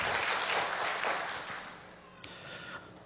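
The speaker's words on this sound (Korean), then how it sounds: "우리 선생님들 위해서 우리 격려의 박수 한번 힘차게 쳐드리겠습니다" A church congregation applauds the teachers with a burst of broad clapping that gradually fades. A single sharp clap stands out near the end.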